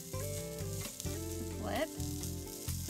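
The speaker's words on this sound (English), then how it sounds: "Now we're gonna flip the burgers." Juicy Lucy cheese burgers sizzle steadily in a hot, slightly smoky pan just after being flipped, a close, continuous crackle with faint clinks and background music layered over it.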